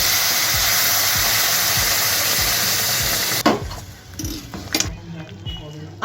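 Mung dal dropped into hot oil with a sizzling spice tempering, a steady loud frying hiss that breaks off abruptly into sharp utensil scrapes and stirring clatter close by.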